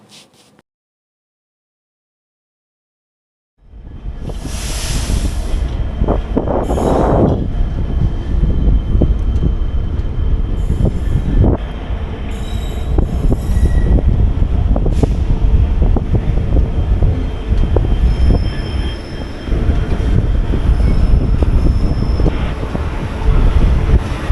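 The New Jalpaiguri Intercity Express runs at speed, a loud, continuous rumble and rushing wind that begin abruptly after a brief quiet start and carry on to the end.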